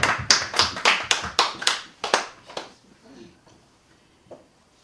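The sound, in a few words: congregation clapping in praise at a church service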